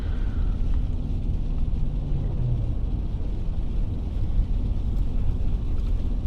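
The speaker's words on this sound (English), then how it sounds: "sometimes the wind and snow is blowing so hard up here" Roaring wind rushes against a manual Toyota 4Runner on Bridgestone Blizzak DM-V2 tires crawling over a mountain pass in a snowstorm, a steady low rumble of gusts and road noise throughout, with no voices.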